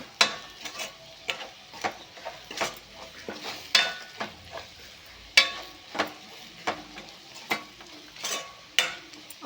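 Sesame powder and coconut powder are stirred with capsicum in a pan, heard as repeated scraping and tapping of a utensil against the pan over a light sizzle, close and clear, with no talk.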